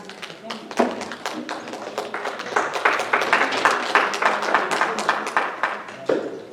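A church congregation applauds after a Sunday school lesson, with a modest, steady patter of hand claps from a small nearby crowd that carries on for several seconds.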